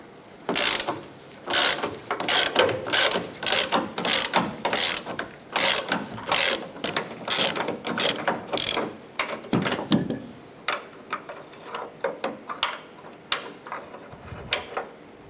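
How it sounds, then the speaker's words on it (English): A 1/2-inch drive ratchet fitted with a T45 Torx bit loosens the tailgate striker bolt on a 2011-2018 Ram 1500, giving loud, close, rapid clicking bursts in steady rhythm, which grow sparser and quieter toward the end. "Using a T45 Torx bit and our 1/2" drive ratchet, we're going to go ahead and loosen and remove the striker bolt."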